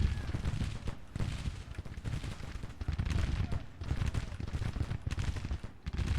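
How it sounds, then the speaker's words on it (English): Rapid Civil War musket volleys crackle back to back in the strategy game Grand Tactician, a dense, continuous barrage of gunfire at mid distance with no pauses. "they're pretty much firing back to back because they have to"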